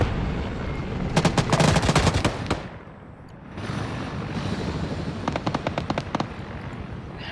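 Gunfire in an Arma 3 battle against a compound with a 12.7 mm heavy machine gun: loud rapid automatic bursts in two clusters, separated by a brief lull, over constant rumbling battle noise.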